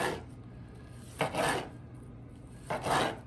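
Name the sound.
knife slicing smoked brisket burnt ends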